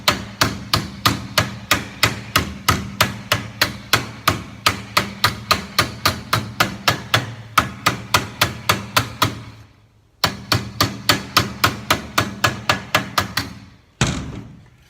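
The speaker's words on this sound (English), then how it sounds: "the vise makes a pretty good dolly or anvil" Rapid, steady hammer blows ring out on sheet metal against a vise used as an anvil, about two to three strikes per second, with brief pauses between runs.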